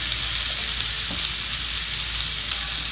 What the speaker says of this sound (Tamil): போட்டு நல்லா கிண்டி விடணும்.